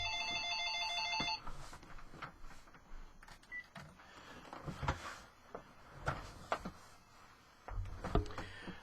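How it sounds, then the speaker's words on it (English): A home telephone rings briefly at the start, then gives way to thumps and handling noises. "that phone never rings, and when it does, it's usually somebody trying to sell us stuff"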